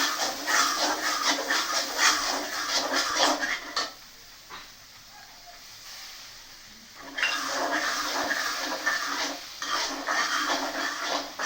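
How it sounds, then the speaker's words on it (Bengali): Water poured into spice masala frying in oil, a loud bright hiss that drops away, then a second surge of hissing sizzle, close, with some faint talk. "একটু পানি দিয়ে দিব।"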